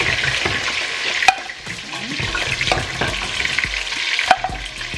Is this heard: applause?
no